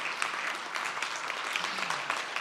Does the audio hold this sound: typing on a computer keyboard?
no